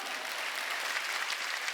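A church congregation at a Sunday worship service claps together in steady, dense applause that runs evenly for about two seconds with no voices over it.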